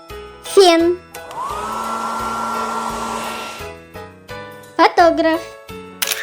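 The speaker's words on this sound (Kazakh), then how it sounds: "Фен" A hair dryer blows with a steady, even whine for a few seconds, starting and stopping cleanly, while short spoken words come just before and after it.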